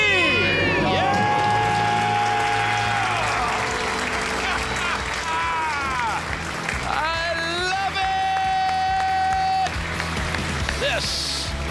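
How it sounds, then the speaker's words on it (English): A studio audience on a radio call-in show cheers, claps and screams loudly for a couple celebrating being debt-free, a sustained roar of crowd noise with a host speaking over it. "Let's hear a debt-free scream"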